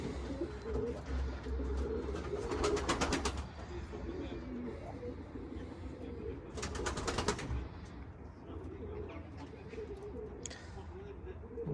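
A pigeon breathing hard with its beak open after a training flight, giving two bursts of soft cooing and wing-flutter noise over steady outdoor background hum, close by.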